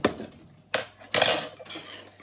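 A spoon stirs baked oats ingredients with sweetener and a squirt of syrup in a bowl, giving three or four separate bursts of scraping and clinking, close and moderately loud with brief pauses between.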